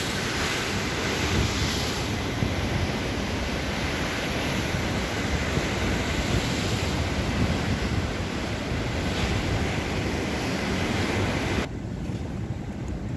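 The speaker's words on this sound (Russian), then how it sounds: "и бушующее море." Stormy sea crashing against the rocky coast at Manarola in the Cinque Terre, a continuous loud roar of surf and churning water with heavy wind buffeting the microphone throughout, no voices.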